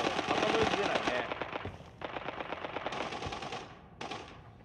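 Suppressed gunfire in the tactical shooter Arena Breakout, heard as rapid bursts of sharp cracks in several runs with short pauses between them, fairly close, over a busy game soundscape.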